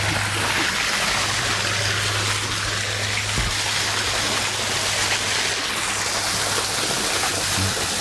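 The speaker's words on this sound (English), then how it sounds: "if you sit here with this running water" Steady running water splashes continuously in a garden grotto, a broad even wash of sound with a faint low hum beneath it and no voices.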